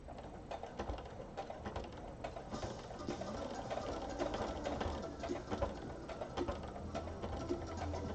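A sewing machine stitches steadily at close range, a continuous fast rattling whir with a dense mechanical clatter that runs without a break for several seconds, with no voices.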